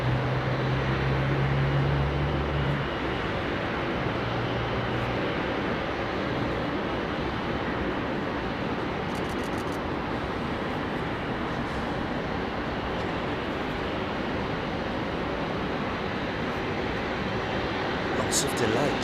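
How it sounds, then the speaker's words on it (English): A broad steady roar fills the air at Heathrow as an Aeromexico Boeing 787 Dreamliner passes, a loud continuous wash of jet noise that holds for the whole stretch with a brief lower rumble near the start. "I'll tell you what is in. It's the Aeromexico Dreamliner."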